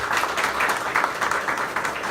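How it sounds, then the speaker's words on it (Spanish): Applause rises from an audience at a women's forum in Honduras, a short burst of brisk, moderately loud clapping that stays continuous throughout. "Yo pido un fuerte aplauso y un reconocimiento para Zoila"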